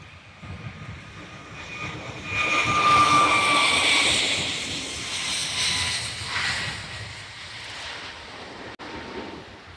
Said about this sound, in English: They've just been given clear to take off this with a normal Airbus display, which is dramatic.